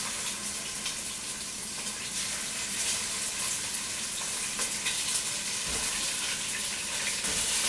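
Ground meat browning in hot olive oil for a Brooklyn-style Sunday sauce, a steady, close sizzle and crackle that holds at an even level the whole way through.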